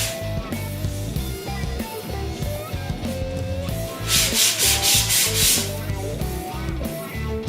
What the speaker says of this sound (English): we're going to sand every surface that was finished